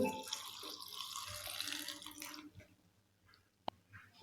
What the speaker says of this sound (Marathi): एक वाटी थंड पाणी ओतत आहे